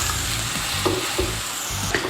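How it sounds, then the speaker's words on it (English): A burger patty for a smash burger sizzles steadily in an oiled pan, a loud, continuous frying hiss with a few soft scraping taps on top. "You hear that sizzling? That sizzling lets you know that our patty is gonna be juicy and delicious."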